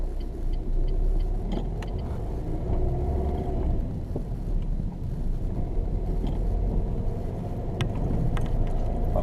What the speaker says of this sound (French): Allez, tu lances le véhicule.